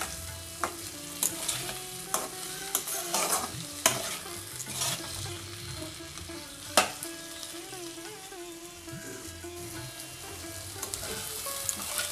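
A spiced new-potato mixture with chopped coriander is stirred in a sizzling pan, a spoon scraping and knocking steadily against the metal over a continuous low fry, with no talking.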